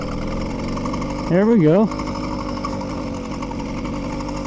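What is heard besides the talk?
motorized bicycle engine idling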